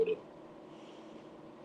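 A livestream's notification chime: one short, loud electronic tone right at the start, then only quiet room noise.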